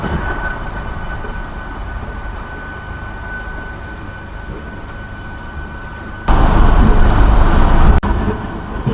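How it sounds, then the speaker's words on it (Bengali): A local train pulls into platform one at Durgapur station at night on the last service from Asansol, a steady loud rumble with a faint whine that swells into a louder rushing surge near the end. "এক নম্বর প্ল্যাটফর্মে বন্ধুরা আমাদের ট্রেন কিন্তু ঢুকছে দুর্গাপুর স্টেশনের এক নম্বর প্ল্যাটফর্মে"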